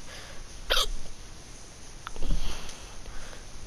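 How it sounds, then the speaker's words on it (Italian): A single sharp hiccup bursts out close to the mic, followed a moment later by a softer sniff-like breath against quiet room noise. "Che palle il singhiozzo."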